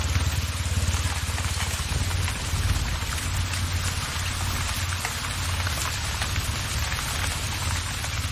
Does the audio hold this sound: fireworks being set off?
no